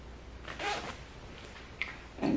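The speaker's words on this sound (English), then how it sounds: "let me zip this up" A toddler boy's clothing zipper, on a Gap garment, being pulled in a few short, close rasps separated by quiet pauses, the last one louder at the end.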